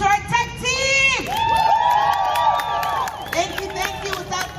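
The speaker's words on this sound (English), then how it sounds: "Let's give a round of applause to our tech team." Crowd at a protest gathering cheers and shouts with whoops and some clapping for the tech team, a loud, lively burst of mixed voices lasting several seconds.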